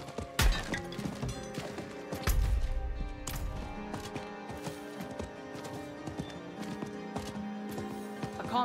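Horse hooves clip-clop in the video game Diablo IV, a quick run of close hoof strikes alongside thuds, over a layered game score.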